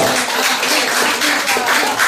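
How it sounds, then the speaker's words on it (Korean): A church congregation claps to thank a pastor, a dense, even wash of applause that stays steady and fairly loud throughout the brief moment. "다시 한번 스마일러 목사님께 고맙다고 박수"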